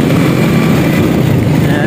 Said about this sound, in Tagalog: nagmamaneho tayo ngayon ng motor